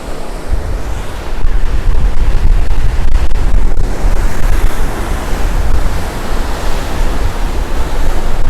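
Ocean waves surge and churn in a rocky inlet at Devils Churn on the Oregon coast. The roar of water is loud, close and continuous, swelling stronger after a moment, with wind buffeting the microphone.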